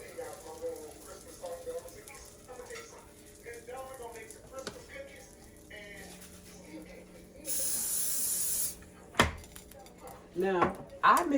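Cooking spray hisses onto a waffle griddle in one steady burst of a little over a second, loud and close, with talking before it and clattering afterward.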